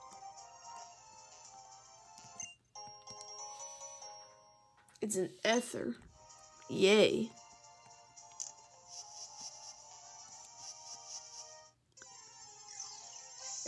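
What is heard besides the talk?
mobile phone ringtone ringing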